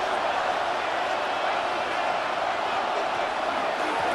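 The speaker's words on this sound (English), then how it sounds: "And they're going to hear it from this crowd." Steady, dense roar of a stadium crowd at an NFL football game in the Madden NFL 26 video game, a continuous wash of cheering noise at even loudness throughout.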